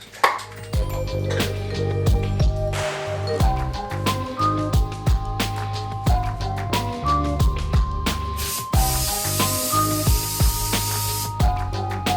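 A steady hiss of an aerosol spray can comes in bursts over background music with a beat, strongest near the end.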